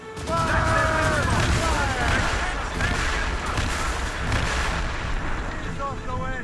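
Heavy ship cannon fire in Assassin's Creed Rogue, booming shots and rumbling blasts layered with shouted commands and crew voices, dense and loud throughout.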